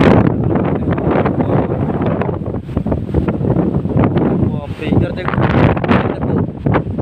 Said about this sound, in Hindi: अभी हाथ का देखो गाइस कितना ऊपर में बहुत तेज हवा चल रहा है।